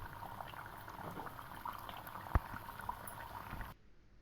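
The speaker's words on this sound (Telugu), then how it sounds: "ఆయిల్ కళాయి కాలి ఉన్నంత వరకు వేసుకొని ఫ్రై చేసుకోవచ్చు." Prasadam snacks for Devi Navaratri deep-fry in hot oil in a kadai, giving a steady close bubbling sizzle with one sharp pop midway, before the sound cuts off.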